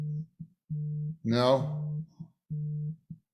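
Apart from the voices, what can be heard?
mobile phone vibrating on a table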